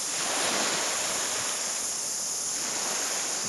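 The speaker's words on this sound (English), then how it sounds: "Found ourselves a nice little beach, no one on it, perfect." Surf washing onto a quiet, empty beach in Abel Tasman National Park, New Zealand, a steady broadband roar of waves with wind noise across the microphone, no voices present.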